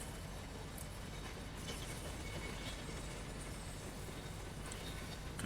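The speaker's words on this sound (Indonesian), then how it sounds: "Kereta bergerak secara pelan" A train rolls slowly in the Train Simulator Pro USA video game, giving a low, steady rumble with faint mechanical clatter and occasional light high clicks, fairly quiet and unbroken.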